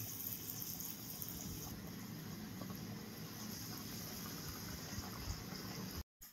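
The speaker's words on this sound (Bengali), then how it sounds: "গরম তেলে ছেড়ে দিতে হবে।" Bread pakoras fry in hot oil with a steady, close bubbling sizzle that fills the whole clip at an even level and then cuts off briefly just before the end.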